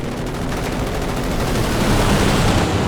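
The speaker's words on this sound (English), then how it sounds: "No, it's a strafing run" A strafing run in the video game Company of Heroes 2 gives a dense, continuous rattle of rapid gunfire that builds slightly louder over a few seconds.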